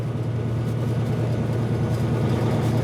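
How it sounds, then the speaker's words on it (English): A Kenworth W9 truck's engine with its turbos drawing air, heard as a loud, close, steady low rumble that holds throughout without any break. "you hear those turbos just start to inhale half the local atmosphere"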